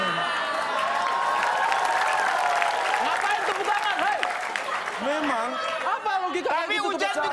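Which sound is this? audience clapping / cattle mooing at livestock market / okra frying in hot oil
audience clapping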